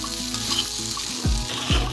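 Okra fry with coconut powder and salt is stirred in a pan, giving a loud, close sizzle and two quick spatula scrapes near the end, with no speech.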